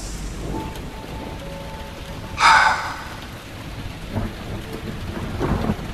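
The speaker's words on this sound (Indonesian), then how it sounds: "dari luar terdengar petir dan tiba-tiba hujan turun cukup deras" A sharp crack of thunder bursts out over a steady wash of heavy nighttime rain falling outside, with a few fainter rumbles and patters following the main clap.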